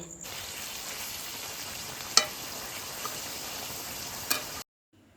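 Mutton being sautéed in a pan, a steady close sizzle of frying meat with a couple of sharp clinks from the stirring utensil.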